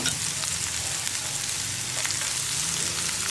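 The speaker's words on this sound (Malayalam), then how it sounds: "സവോള നന്നായിട്ടൊന്ന് കളർ മാറി വരുന്നത് വരെ ഇളക്കി കൊടുക്കാം" Sliced onions with curry leaves fry in oil with a constant, dense sizzle like light rain. Faint stirring scrapes are heard close by, with no speech.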